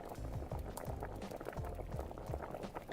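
Liquid bubbling in a cooking pot in a cozy kitchen game, a busy stream of close, irregular popping blips over a soft simmering bed, continuous with no voices.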